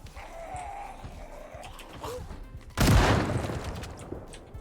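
A single loud shotgun blast rings out against zombies in Project Zomboid, a sharp close report with a ringing decay that follows a stretch of low moaning and shuffling background noise.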